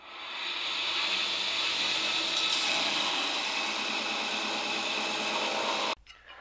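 Grinding a forged five-layer steel knife billet with a damascus core, a steady, loud abrasive hiss and whine that runs for about six seconds before stopping abruptly.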